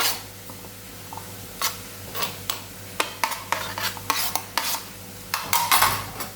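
Green chilli, garlic and ginger pounded in a mortar and pestle, making a series of sharp, uneven knocking strikes that grow quicker and louder, with no voices.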